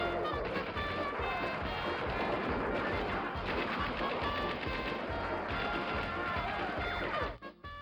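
Game audio from the 3DO title Plumbers Don't Wear Ties: a dense, loud stretch of booming gunfire and clattering noise fills nearly eight seconds, then cuts off abruptly near the end.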